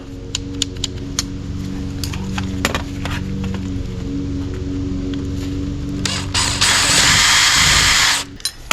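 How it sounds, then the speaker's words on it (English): A power drill whines loudly for about two seconds near the end, drilling out a rivet on a 1952 Willys pickup door latch, after a stretch of low mechanical hum and scattered clicks. "Looks like I have to drill this rivet out also."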